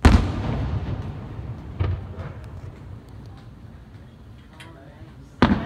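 Fireworks over Gulfport on July 5: a heavy boom opens, followed by distant crackling pops, a smaller burst midway, and another loud boom near the end, all over a rumbling outdoor background.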